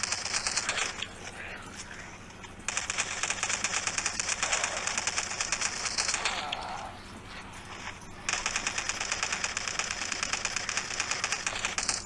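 AKM rifle in a shooting video game firing long full-auto bursts, loud and rapid, with short pauses between strings of shots.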